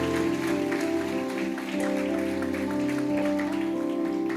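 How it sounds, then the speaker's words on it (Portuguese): Church congregation clapping during a sermon, a broad wash of hand claps layered over a sustained held musical tone, steady and fairly loud throughout. "Você pode aplaudir a Deus por isso,"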